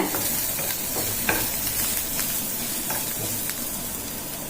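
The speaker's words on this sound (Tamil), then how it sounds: "நெய் நல்லா உருகிடுதுங்க. இப்போ நம்ம கட் பண்ணி வச்சிருக்கிற வெங்காயத்தை, இந்த வெங்காயம் பாதி அளவுக்கு நல்லா வதங்கிடுதுங்க." Chopped onions sauté in melted ghee in a pan, giving a steady, close sizzling hiss with soft stirring scrapes throughout and no talk.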